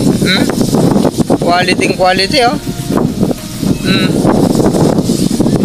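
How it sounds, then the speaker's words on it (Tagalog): Strong wind roars steadily across an open rice field, a constant buffeting rush with someone speaking over it throughout. "ganyan kalakas na hangin, dire-diretso"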